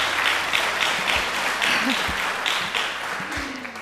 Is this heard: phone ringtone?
no